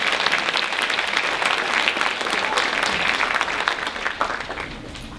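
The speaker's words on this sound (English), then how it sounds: "one more round of applause for our junior Miss Dogwood contestants" An audience applauding junior contestants at the 2019 Quitman Dogwood pageant, a full, steady wash of many hands clapping close and loud, easing slightly toward the end.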